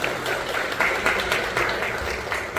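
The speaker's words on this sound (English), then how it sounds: "Round of applause to the Cayman Islands Red Cross." A theatre audience applauds the Cayman Islands Red Cross at a seniors' talent and fashion show, steady dense clapping sustained throughout at moderate loudness.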